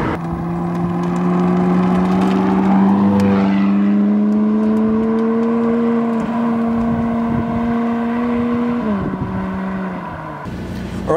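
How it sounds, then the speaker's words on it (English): A McLaren 675LT Spider's exhaust revs up and holds a loud, sustained engine drone before dropping off near the end, close by with no talk. "how big of an exhaust difference there is here"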